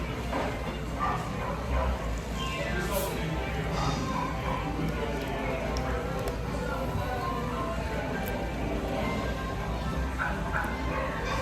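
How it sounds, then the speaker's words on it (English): A dog barks and yips repeatedly in the background at a busy outdoor theme-park resort, mixed into steady crowd noise and chatter across the whole stretch. "Randy and Heidi, sounds like my backyard with a dog barking, always barking."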